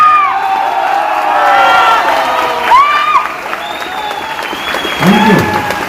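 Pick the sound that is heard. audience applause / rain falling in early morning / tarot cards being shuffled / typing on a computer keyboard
audience applause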